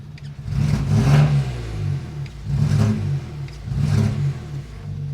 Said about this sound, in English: It's even misfiring right there